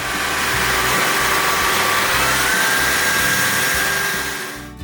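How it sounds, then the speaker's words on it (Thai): A vacuum cleaner runs steadily and loudly up close, a continuous whooshing motor drone that cuts off at the very end, with no talking. "เจ้าเครื่องนี้ ช่วยให้การดูดฝุ่นของเราเป็นเรื่องง่ายทีเดียวครับ"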